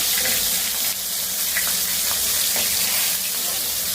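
Fish frying in hot oil sizzles continuously up close, a loud bubbling hiss with small pops and crackles throughout.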